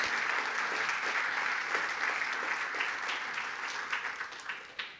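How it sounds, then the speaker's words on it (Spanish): A church congregation applauds steadily, a dense wash of clapping that stays loud and even before tapering slightly at the end. "Dele fuerte el aplauso a Dios"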